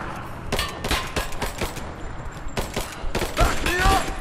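Bursts of rapid gunfire crackle through a firefight at a Soviet installation in Rise of the Tomb Raider, dense overlapping shots with in-game soldiers shouting combat callouts underneath.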